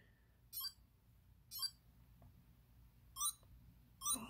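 A Hey Kitty KO Tamagotchi beeps while being fed cake: four short, high electronic chirps spaced unevenly, small and thin, over a quiet background hiss.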